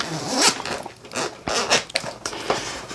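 A zipper on a Peak Design Tech Pouch V2 is pulled open in several short raspy bursts, close up, with rustling of fabric between the strokes.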